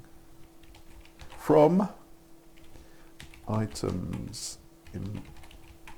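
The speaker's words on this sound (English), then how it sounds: "Talking and typing." Typing on a computer keyboard during a Python coding session, soft rapid key clicks under a man's speech that comes in short bursts.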